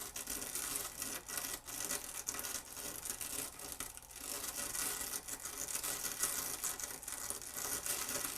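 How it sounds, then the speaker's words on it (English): A stainless steel toothbrush scrubbing the electrical contacts of a 1999 Toshiba MV13J3 13-inch TV-VCR combo, a continuous bristly rasping and scratching that runs steadily throughout at close range, without speech. "hit it with the stainless toothbrush just to help clean those contacts a little bit"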